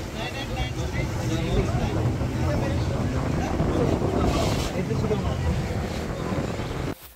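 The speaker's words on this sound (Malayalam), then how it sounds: "നമ്മളിപ്പോൾ സ്പീഡ് ബോട്ടിലാണ് കയറിയിട്ടുള്ളത്." Speedboat racing across the sea near Al Sawadi Beach, Oman, a steady loud engine drone mixed with rushing water and heavy wind buffeting the microphone, cutting off abruptly at the end.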